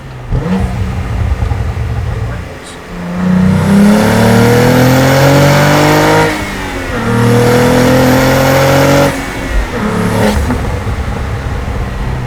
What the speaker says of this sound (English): We'll do another little second gear pull.